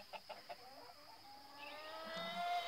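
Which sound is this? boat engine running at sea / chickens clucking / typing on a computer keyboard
chickens clucking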